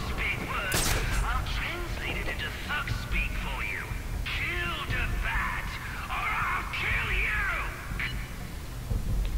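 Gunfire in the Batman: Arkham Origins video game, with bursts of shots and fusillades popping over a low ambient rumble, mixed with talk and radio-like voices throughout.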